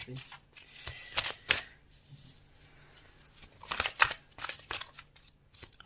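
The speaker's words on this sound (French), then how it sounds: "j'ai pas mal de cartes qui tombent en même temps" Tarot cards are shuffled by hand in quick, crisp riffling bursts, with several cards slapping down together. Softer rustling fills the pauses between bursts, close and moderately loud.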